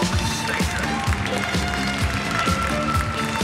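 An audience at a dog show applauds to welcome the judge, with steady clapping from many hands mixed with crowd noise, close and continuous.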